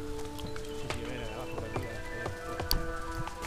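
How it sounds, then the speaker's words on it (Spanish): Heavy rain patters steadily at a football stadium during a Deportes Recoleta versus Santiago Wanderers match, a dense wet crackle mixed with crowd voices and tonal chanting or music in the stands. "Llueve de arriba para abajo, loco."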